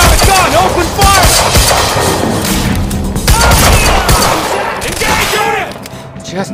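Dense automatic gunfire from the video game Quantum Break, rapid bursts of shots loud and continuous across the whole stretch, with game voices and effects mixed underneath.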